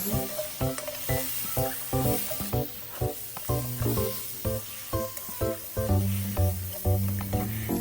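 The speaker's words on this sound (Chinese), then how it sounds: "同时加入备好的香料、羊肉，一起翻炒。" Lamb with spices, fermented bean curd and chu hou sauce is stir-fried in a wok: a continuous sizzle cut by rhythmic, evenly spaced metal clanks and scrapes of the spatula, close and busy throughout.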